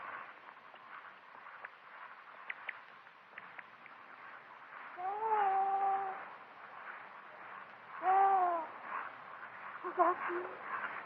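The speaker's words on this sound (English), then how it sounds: "The bird call." An owl-like bird hoot near a willow tree hung with Spanish moss, heard as two distinct rising, wavering calls several seconds apart over a murky background hum, with a fainter call trailing at the end.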